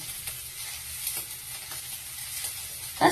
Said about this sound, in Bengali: তো আমার ডিম পুরোপুরি ভাজা হয়ে এসছে